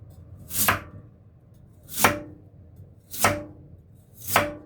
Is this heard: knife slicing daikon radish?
yes